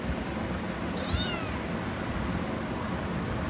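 A kitten sitting in a basket gives one short, fairly clear meow near the start over a steady background hiss, and the rest stays quiet apart from faint low rumbles.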